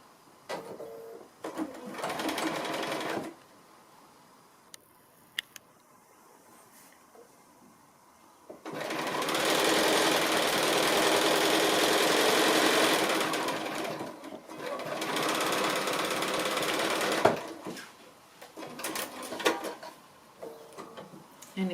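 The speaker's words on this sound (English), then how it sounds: "we're just going to start sewing here and stitch all the way through out to there" A sewing machine stitches 60-degree diamond quilt pieces in several steady, whirring runs of a few seconds each, separated by quiet pauses and small handling clicks.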